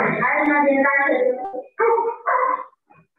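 A dog in a house barks and yelps in a few close, loud bursts, with a rough whining bark at first and then two short separate barks.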